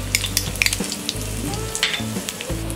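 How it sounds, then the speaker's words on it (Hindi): A teaspoon of cumin seeds and half a teaspoon of asafoetida sizzle in hot oil, a steady close crackle with sharp pops, over a low kitchen hum. "तेल गरम हो गया, अब हम इसमें डालेंगे ये 1 टीस्पून जीरा, 1/2 टीस्पून हींग"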